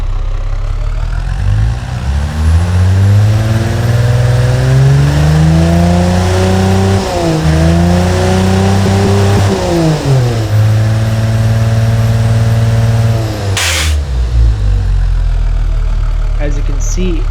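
A 400-horsepower military engine running on 80 octane fuel in the Automation car-building game, revving loudly with rising and falling harmonic sweeps over a deep, steady rumble, then settling back toward a diesel-like idle.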